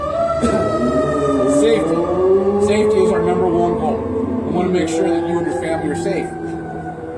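Wailing emergency sirens rise and fall in the background while someone talks steadily over them.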